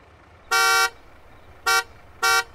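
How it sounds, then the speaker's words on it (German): Vehicle horn honking in the Farming Simulator video game: three loud, buzzy toots, the first longer and the next two shorter, sounding alone over a faint engine rumble. "Zeig mir deine Hupe."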